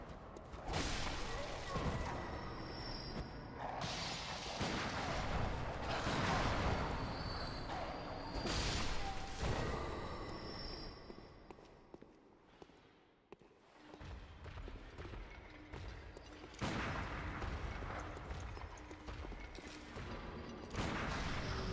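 Gunfire and impact sounds from the video game Bloodborne, repeated bursts of shots and crashes spread across a busy game soundscape, loud and dense with a short lull midway.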